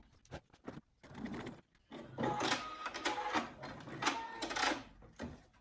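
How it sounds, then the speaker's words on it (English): A sewing machine whirs in short bursts and then longer runs of rapid mechanical basting stitches on a skirt, with brief pauses between them. "I'm literally going to be sewing down that line there with the basting stitch"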